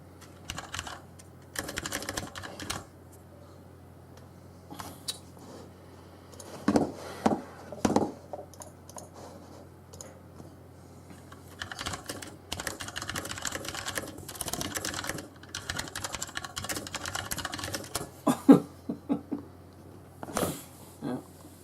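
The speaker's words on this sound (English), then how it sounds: "Okay, so typing is pretty good. It's pretty flawless." Typing on a newly installed computer keyboard: bursts of quick, close key clicks that start and stop in uneven runs, with someone talking at intervals between and over them.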